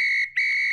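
A person imitates a steady, constant whistle-like tone with the voice, holding a high pitch that dips briefly midway and then resumes, alone and close.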